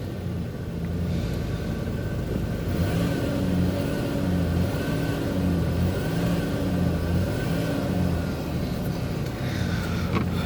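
A car with a 3-liter V6 engine runs at a steady, loud, close rumble with a slightly uneven throb, holding near idle rather than climbing in pitch.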